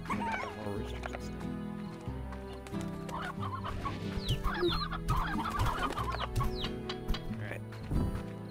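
Roosters and other fowl cluck and crow repeatedly through the farm scene of the video game Slime Rancher, set over a steady game music bed with a dog-like bark in the mix.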